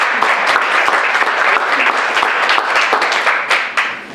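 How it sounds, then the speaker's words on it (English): A banquet audience breaks into sustained applause, a thick, loud wash of many hands clapping that thins slightly toward the end. "Let's give him a round of applause."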